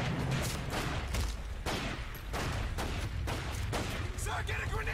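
Dense, continuous gunfire from a Pacific Assault battle in the World War II shooter Medal of Honor, with rapid overlapping rifle and machine-gun shots and heavy booms, loud throughout, while voices shout over the fighting.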